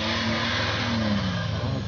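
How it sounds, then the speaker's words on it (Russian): Pinzgauer off-road vehicle with a three-litre engine, 37-inch tyres and Pinzgauer transfer case, its engine droning and revving steadily and loudly at close range with no talk over it. "Пинс с трехлитровым двигателем 37-й резиной и раздаткой Пинсгауэра"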